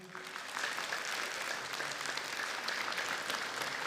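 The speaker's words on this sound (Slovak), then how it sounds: "Takže ešte jeden veľký potlesk pre Renatu." A large audience at the Bratislava fashion show applauds model Renata, the clapping rising quickly into a steady, full roar that holds to the end.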